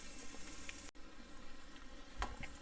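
Onions and vegetables frying in butter that is starting to brown, a soft continuous sizzle with small pops, heard close and fairly faint.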